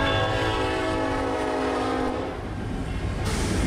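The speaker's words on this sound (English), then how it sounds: "I love how the whole restaurant shakes when the trains goes by." A train rolls past Trackside Pizza in Puyallup, a loud sustained horn blast over rumbling wheels that drops away midway, leaving the close, heavy rattle of the cars going by the restaurant.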